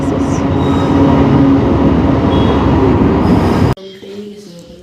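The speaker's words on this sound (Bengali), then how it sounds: "প্যাসেঞ্জার ট্রেন খালি ট্রেন" An empty passenger train rumbles past close by, loud and steady with rattling wheels and a faint squeal, then cuts off abruptly into quieter background noise.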